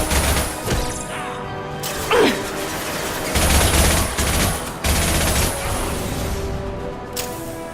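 Gunfire and crashing impacts from a Mass Effect sci-fi shooter game, loud bursts of shots and smashes in several volleys with brief gaps, fairly close and dense.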